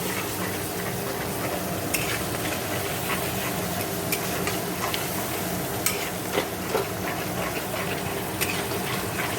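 Masala paste seasoned with salt, turmeric and a little sugar fries in a pan, a dense continuous sizzle broken by repeated scraping and clinking of a stirring spoon, close and loud throughout.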